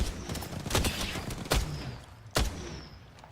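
Gunfire in a battle royale shooter video game, several sharp, loud shots cracking out in irregular bursts over a busy background of game noise.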